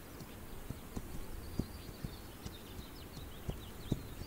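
Horse hooves clip-clop at a walk across the ground in the video game This Land is My Land, a steady run of soft, evenly spaced footfalls over a low outdoor ambience with faint bird calls.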